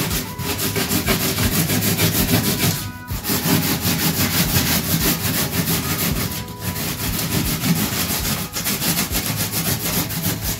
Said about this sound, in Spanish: con esta lija es bien fácil desgastar aquí